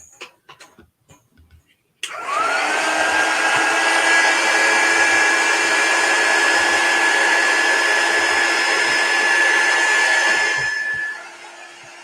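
A hair dryer switches on abruptly and blows steadily at close range for about nine seconds, drying chalk paste on a wooden cutting board, then winds down; a few light taps come before it starts.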